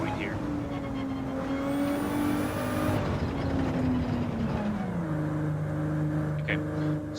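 A race car in Gran Turismo 7 brakes into a corner, its engine tone dropping in pitch under a continuous whirring drone, with a person talking over it.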